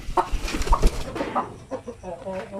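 A Basilan hen clucks in short bursts close by, soft throaty calls overlapping with someone talking.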